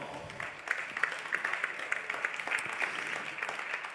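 Audience applause at a financing barcamp event during the Mêlée Numérique 2022, welcoming the first panel guests: steady, moderately distant clapping from a crowd that holds at even strength throughout.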